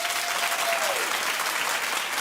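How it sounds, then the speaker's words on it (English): A talk show studio audience claps in a brief, steady burst of moderate applause, with a faint tonal glide sliding downward partway through. "Clap in the audience if you have godparents."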